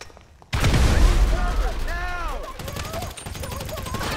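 A grenade explodes with a sudden loud, close boom in the video game GTA 5, followed by a rumbling tail, scattered gunfire and brief shouting voices.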